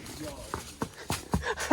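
A horse on a trail steps along in an even run of hoof clops, about five or six moderately close beats, with faint talk in the background.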